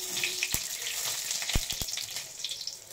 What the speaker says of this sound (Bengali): দিয়ে দেবো প্রথমে ফোড়ন,